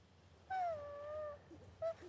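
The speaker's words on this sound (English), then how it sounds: "Dog." A dog in the video game Infinity Nikki gives a drawn-out whining yelp followed by a short second yip, close and clear over a low ambient background.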